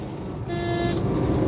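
Car horn sounding while overtaking on a road, one clear tonal honk lasting about half a second over steady road and engine noise from inside the car, with no talk.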